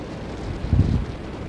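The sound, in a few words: strong wind and waves crashing against a boat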